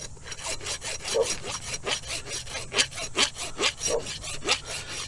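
Rear brake caliper bracket from a Chevy Impala brake job scrubbed clean with rapid back-and-forth strokes, a rhythmic rasping close up, about two strokes per second.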